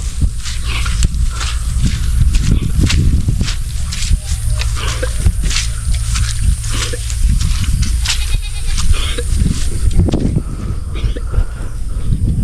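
Several goats being led out of their pen bleat repeatedly and loudly at close range, with footsteps and shuffling around them and little talking.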